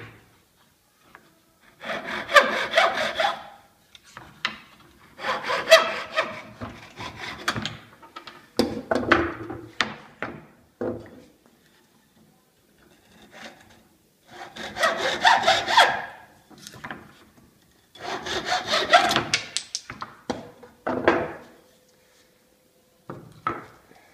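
A hacksaw cuts through a chestnut log resting on a board on a workbench, in repeated close, rasping bursts of quick back-and-forth strokes separated by short pauses, with no talking.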